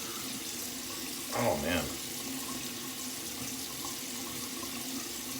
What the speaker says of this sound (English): Do a quick cold water rinse.